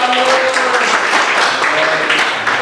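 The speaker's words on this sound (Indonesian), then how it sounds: "Tepuk tangan dulu dong." A classroom group claps for group 4 in a short, dense burst of applause that stays loud and even throughout, with no voice heard over it.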